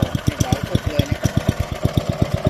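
An old imported ROBIN 5 hp four-stroke petrol engine with a reduction shaft idles close by, giving an even, rapid thumping chug of about eight beats a second.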